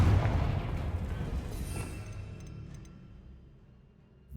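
A Confringo spell blasts off in Hogwarts Legacy, a loud booming explosion at the start that rumbles and slowly fades over a few seconds, with no talk.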